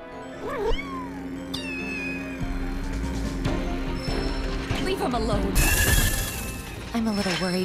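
Several kittens and a cat mew repeatedly in Final Fantasy VII Rebirth, thin rising and falling meows overlapping close by over a steady game soundtrack with mechanical clicking.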